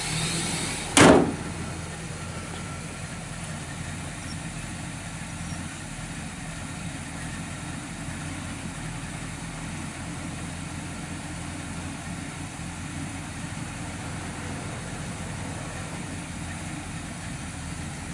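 A 1972 Oldsmobile Cutlass S 350 Rocket V8 engine idles in a steady, even low rumble throughout, with a single brief knock near the start; no one speaks.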